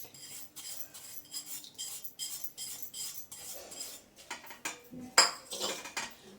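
Metal utensils clink and scrape against a pot as cooled tempering is poured over spinach tambuli, a series of soft close taps and rubs ending in a sharper clink.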